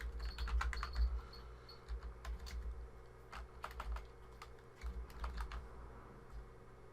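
Someone types a password on a computer keyboard: quiet, irregular clusters of keystrokes and short pauses, close but faint.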